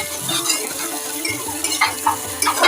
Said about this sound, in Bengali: এভাবে কিছুক্ষণ ভেজে নিলাম